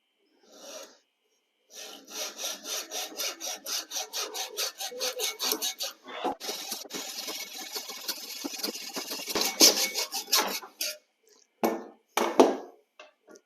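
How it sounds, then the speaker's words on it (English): A hand saw cutting a 45-degree miter in floor trim during a bathroom floor makeover: rapid rhythmic rasping strokes, close and fairly loud, speeding up through the middle, with a few pauses and knocks near the end. "We want to make sure our saw blade is directly on that point."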